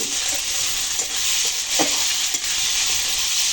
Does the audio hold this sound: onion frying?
yes